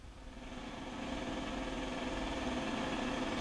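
An aircraft engine starts up in a flight simulator game, a faint buzzing hum building over the first second and then holding steady.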